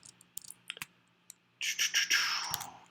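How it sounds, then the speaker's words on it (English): Rapid computer mouse clicks and key taps during an Advent of Code 2016 puzzle session, a scattered run of sharp, close clicks followed by a denser, louder burst of clicking near the end, with no talk. "I'm clicking a lot."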